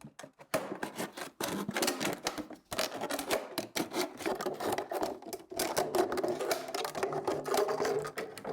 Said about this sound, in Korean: 이렇게 한번 칼집 내서 가위로